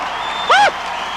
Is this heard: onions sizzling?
no